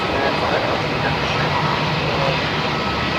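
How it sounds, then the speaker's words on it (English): Boeing 717 airliner at Melbourne Airport beginning its takeoff roll on runway 34, a steady, moderately distant broadband jet engine roar holding even throughout. "the 717 lined up, ready to go"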